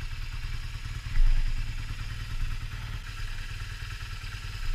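A small motorbike with new grips and freshly changed oil and filters idles close by, a steady rapid engine putter with a brief louder blip early on, then settling back to an even idle.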